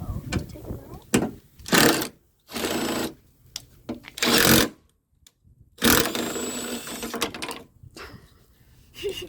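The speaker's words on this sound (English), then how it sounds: "you're going to want to take out these 3 screws. This is what holds the headlight in." Power driver whirring out headlight screws on a 2006 Dodge Caravan, several loud buzzing bursts of a second or two each with gaps between, close up.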